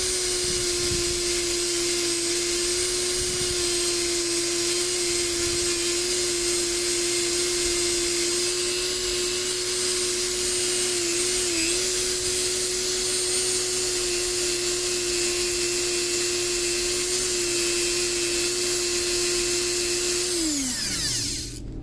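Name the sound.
power tool polishing Glock internals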